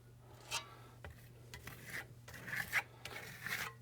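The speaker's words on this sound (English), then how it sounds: "We're spreading it around again in a skip trowel motion." A trowel spreads a thin plaster layer over a grottesca fresco in a skip-trowel motion, giving quiet, intermittent scraping and rubbing strokes with short pauses between them.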